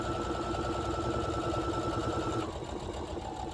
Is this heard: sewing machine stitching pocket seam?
yes